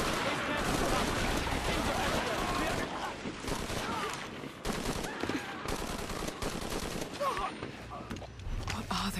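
Gunfire in Shadow of the Tomb Raider during a fight against creatures, dense continuous shooting and bursts under shouted voices, loud and chaotic throughout.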